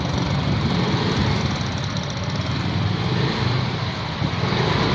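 A loud motorcycle engine drones steadily close by, a dense rumbling roar that holds at constant level throughout.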